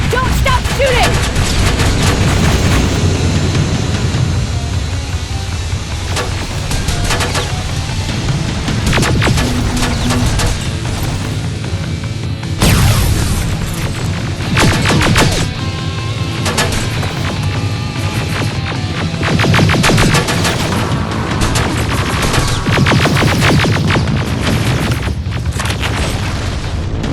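Constant gunfire and heavy explosions in the video game Terminator Resistance, a dense, loud barrage of shots and booms with a big blast near the middle, and shouting voices mixed in throughout.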